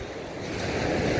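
Sea waves wash onto the shore at Odesa in winter, a steady broadband surf roar that swells slightly louder toward the end, with wind noise on the microphone and no talk.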